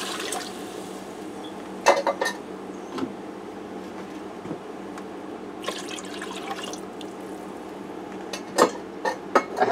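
Canned beef broth splashes and trickles into a pressure cooker pot, with scattered drips and light clinks of metal cookware over a steady background hum.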